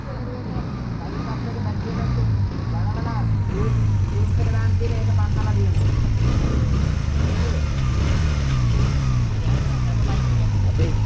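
A car engine runs with a steady low drone that rises and swells as if revved, continuous throughout and close by, with people talking over it.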